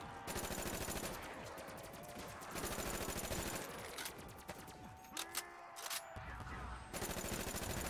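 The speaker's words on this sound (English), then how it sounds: "pull out that ray gun. Pull out that ray gun, boy" Ray gun fire in Black Ops 3 custom Zombies on a haunted graveyard map: rapid repeated shots in several bursts with short pauses, loud and close, under a dense layer of game noise.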